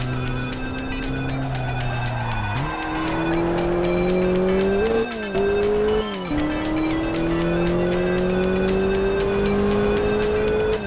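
A Formula 1 car on the Barcelona-Catalunya circuit in a video game, loud steady engine note dropping sharply as it brakes, with quick downshift blips before it climbs again, no talk.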